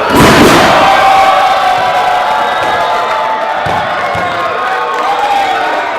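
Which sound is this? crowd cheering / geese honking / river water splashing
crowd cheering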